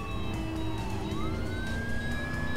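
A police car siren wails in the Driver San Francisco video game, its rising and falling tone sounding moderately near over the steady rumble of car engines and traffic, with no talking.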